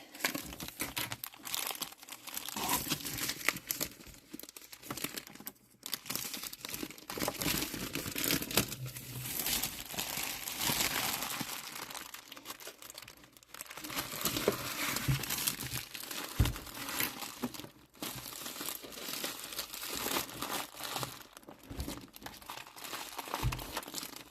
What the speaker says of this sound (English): now we're just going to start getting this clear wrapping off of the machine.